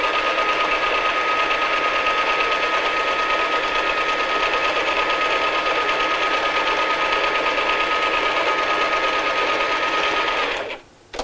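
A sewing machine runs continuously, stitching a child's first tote bag, a steady near whirring hum that holds evenly for about ten seconds before stopping abruptly.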